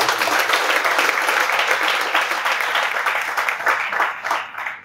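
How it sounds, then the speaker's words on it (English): Sustained, loud round of applause from a large audience at an entrepreneurship talk, dense clapping that fills the room and then begins to thin out at the end. "give her a thunderous round of applause"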